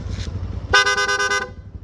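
Close and loud, a PIAA dual horn on a Yamaha NMAX V3 scooter gives a short toot, then a rapid string of pulsing honks lasting under a second.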